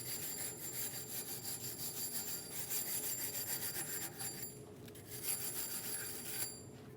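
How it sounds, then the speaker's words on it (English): A wire brush scrubs the rear wheel hub of a 2010-2015 BMW X1 xDrive during a brake job, a steady gritty rasping that runs for several seconds at close range with short pauses, and no voices. "Using a wire brush, we're going to clean our hub"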